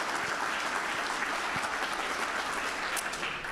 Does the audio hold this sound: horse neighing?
no